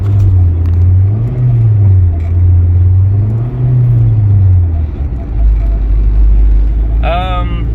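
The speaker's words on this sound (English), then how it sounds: "Give it some gas, Shane." Car with a failing transmission accelerating, a loud steady engine drone that rises and wavers in pitch, then drops to a deep rumble, with a brief voice near the end.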